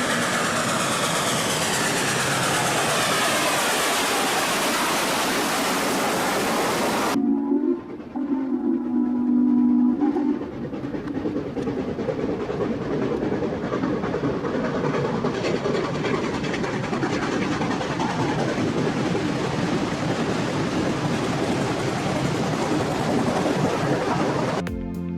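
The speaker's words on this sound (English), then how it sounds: "Western Maryland Railway's steam train coming out of tunnel with incredible sound and lots of steam." Western Maryland Railway steam train emerging from a tunnel, a loud, close, sustained rush of steam and rolling wheel noise that dips briefly partway through before surging back, carrying on steadily with no voices.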